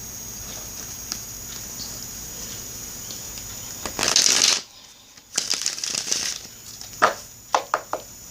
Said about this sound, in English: I have shuffled the cards. I am cutting the deck now for you.